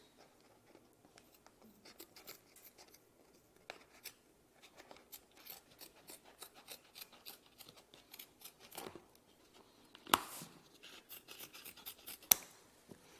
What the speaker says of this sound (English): So I will take the scissors over here. I'm going to cut this